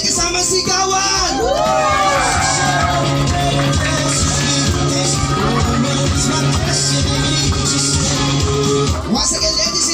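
A birthday party audience roars with loud, continuous cheering, shouts and whoops, with clapping blended into the crowd noise and a host's voice cutting through at times, sustained for the full ten seconds.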